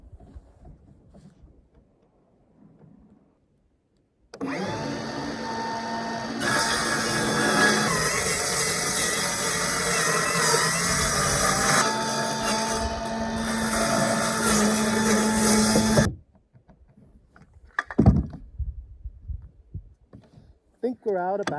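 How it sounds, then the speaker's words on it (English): A cordless circular saw trims the overhanging ends of roof boards on a cabin build, cutting in one sustained loud whining run of about twelve seconds after quiet, then stopping abruptly, followed by a few brief knocks. "the circular saw will run along that and take all these off nice and level"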